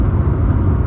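A car rolls along the A442 road near Telford at night after a pothole strike, running on a mismatched pair of struts and springs, giving a steady, loud, close low rumble of engine and tyre noise throughout.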